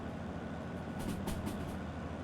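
A train in the railway simulator Derail Valley rolls past at about 70 kph, giving a steady rumbling roar with brief swells of rail clatter and hiss, fairly close and with no talking.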